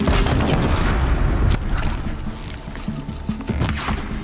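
Heavy booming gunfire from an enemy with a gun in Horizon Zero Dawn, dense loud blasts and impacts layered over game noise, with several sharp hits in quick succession.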